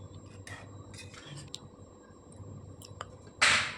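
A lid goes down over a pan of simmering vegetarian flat-bean chorchori with water added, a single bright clank near the end after a few soft kitchen clicks over a low background hum.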